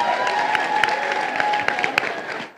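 Audience applause for a guest at a youth gathering in Heliópolis, São Paulo, a steady wash of clapping from a crowd with a few sharper claps standing out, held throughout before trailing off at the end.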